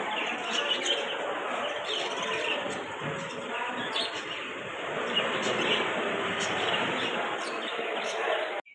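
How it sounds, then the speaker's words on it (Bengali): Caged birds at a hotel entrance chirp in short, repeated high tweets over a dense wash of crowd chatter and background noise, and the clip ends with a sudden jolt. "হোটেলটা ঢোকার মুখে একটা খাঁচা পড়বে পাখির খাঁচা আর পাখিগুলো দেখো কত সুন্দর"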